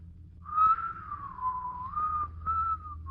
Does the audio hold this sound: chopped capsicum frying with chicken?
no